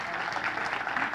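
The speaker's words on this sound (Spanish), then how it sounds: "Alguien tiene que darle un aplauso al Señor en esta hora." Congregation in a church breaking into steady applause, a dense, continuous wash of many hands clapping at moderate level with no pauses.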